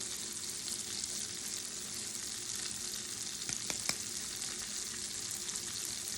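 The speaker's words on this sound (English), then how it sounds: "I'm going to go ahead on and add my roughly chopped onion because I love onion." Chopped onion and garlic fry in butter in a pan, making a steady, close hiss of sizzling with a few brief stirring clicks partway through.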